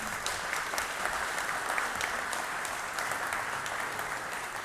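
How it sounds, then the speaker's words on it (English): A conference audience gives a panel of reef-keeping speakers a full round of applause: dense, even clapping that holds steady and close with no pause, and only faint voices underneath. "another round of applause for this incredible panel"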